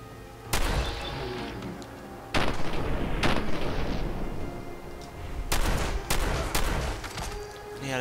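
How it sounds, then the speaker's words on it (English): Double-barrel shotgun blasts in the game Fallout 4: Far Harbor, with several sharp loud reports in an uneven pattern, the last few coming in quick succession, each followed by a brief rumbling tail. "He had a double barrel shotgun."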